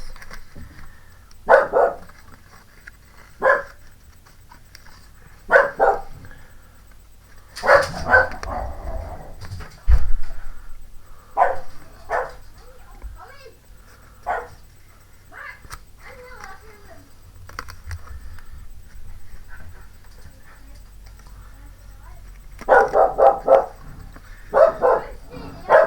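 A house dog barks indoors in repeated short bursts, fairly close, with pauses between volleys and a final flurry of barks near the end, amid household background noise.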